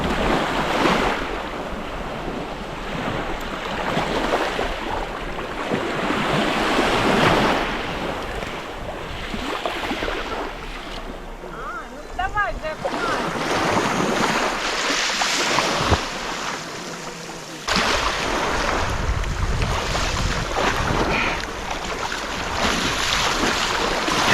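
Sea waves roll onto a beach near Zatoka on the Black Sea, a loud continuous wash of surf with wind buffeting the microphone and surges that swell and break.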